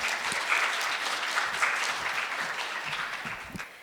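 Audience applause at a Korean-language speech contest in Toronto, a steady, dense clapping from a sizable crowd that holds evenly for several seconds at moderate distance, with no voices over it.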